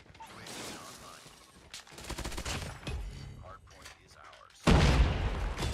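Gunfire from the PUBG Mobile video game crackles in rapid bursts, the shots fairly faint and mixed with quieter game sounds before a louder, denser burst near the end; a voice talks over part of it.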